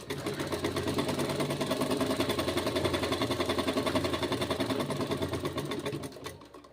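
A sewing machine stitches a suit with a fast, steady mechanical chatter that runs continuously for about six seconds, then slows and stops.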